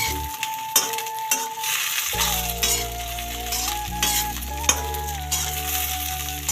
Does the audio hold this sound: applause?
no